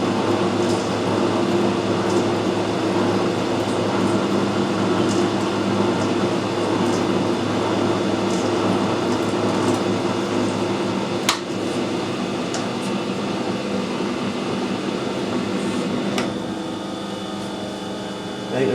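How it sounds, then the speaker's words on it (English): A lathe cutting a thread at high speed, around 300 to 400 RPM, during a Sentinel steam wagon strip-down, gives a steady continuous mechanical drone with a broad hum, constant loudness and a couple of brief sharp clicks. "High speed screw cutting."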